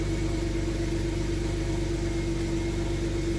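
A warm BMW 335i idles steadily, a smooth continuous engine hum with a low rumble and a constant tone, heard close up and alone for a few seconds.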